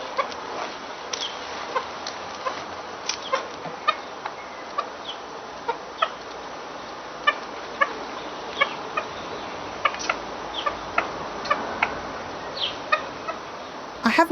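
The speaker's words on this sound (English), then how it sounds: "When it eats, it makes little clucking noises that are very endearing." A garden bird in a Hampshire yard in the U.K. makes soft little clucks while eating, scattered and fairly faint over a quiet outdoor background, some coming in short runs.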